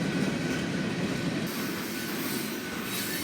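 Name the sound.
freight train with hopper cars rolling past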